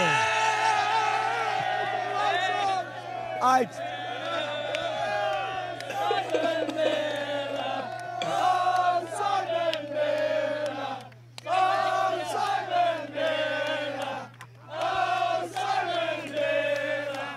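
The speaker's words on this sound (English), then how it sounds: "Seeing the whole crowd hyped up." A wrestling arena crowd at a WWE Clash at the Castle event roars and chants in loud, sustained waves, with brief dips between swells and a steady hum running underneath.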